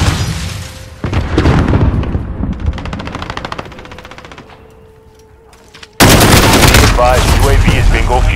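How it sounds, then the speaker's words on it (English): Sentry gun in Call of Duty: Modern Warfare firing loud, rapid automatic bursts, broken by short pauses and a fading tail, then a dense burst of gunfire with radio chatter over it. "Got a sentry gun on station."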